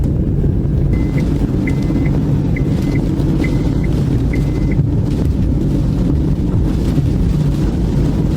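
A steady, loud wind roars around a parked car during a dust storm on a Lahore to Sialkot road trip, with broadband rumble and gusts buffeting the body. A faint repeating beep sounds briefly.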